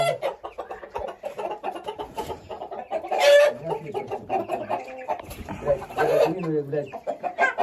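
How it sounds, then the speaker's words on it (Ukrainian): Hens, including an Americana and a Chinese silkie, cluck and chatter close by in a steady stream, with someone speaking over them. "Там сидить дві кочки. Американа і китайська попова."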